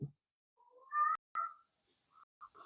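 A cat meows several times, short tonal calls spaced apart against otherwise quiet surroundings, with a faint distant voice at the start.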